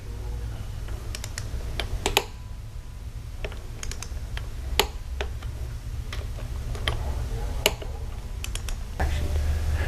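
A torque wrench tightens the bolts on a GM starter, giving scattered sharp ratcheting clicks and ticks at irregular intervals over a low background rumble, fairly close.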